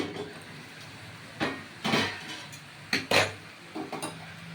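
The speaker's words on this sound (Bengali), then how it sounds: "এইবার আমি সব নেড়ে দিলাম" A spoon scrapes and clatters against a pan of Malabar spinach vegetables releasing water, in several uneven strokes, metallic knocks with quiet pauses between, close by with no talking.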